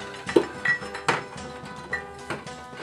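Steel square tubing cut to length clanks and clinks as it is handled and slid into engine mounts during a Datsun 240Z 4.8L LSx swap, with several sharp metallic knocks spaced across the clip, close and fairly quiet.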